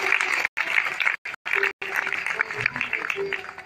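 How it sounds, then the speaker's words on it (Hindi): Audience clapping at a Bhagwat katha religious gathering in Etah, Uttar Pradesh, a dense continuous patter of many hands, loud and close, broken by a few brief dropouts. "इसलिए आप लोग खूब उनके लिए ताली बजा रहे हैं।"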